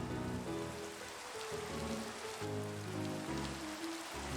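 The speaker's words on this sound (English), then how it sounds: "Will it stop raining now?" Steady rain in Minecraft, a continuous dense hiss of drops on surfaces, heard alone with low background game music beneath it throughout.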